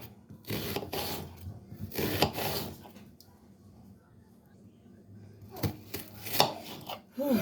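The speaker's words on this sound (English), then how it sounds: "This is the onion I need to chop up." A knife chops an onion on a cutting board while preparing a homemade oxtail stew. It makes loose clusters of crisp, close-up knocks, with quieter pauses between the bursts and faint background sounds.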